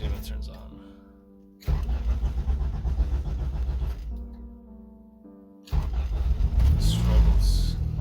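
An Acura TSX that has had its alternator and serpentine belt replaced cranks and runs in two loud, rough stretches of engine noise. A person talks in the quieter gaps between them.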